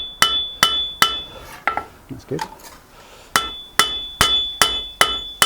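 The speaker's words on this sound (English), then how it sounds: "The hammer bounces back up more." Hammer blows on a medieval spear head at an anvil, a steady series of loud, ringing metallic strikes at a brisk pace, with a short pause midway where a brief word is spoken.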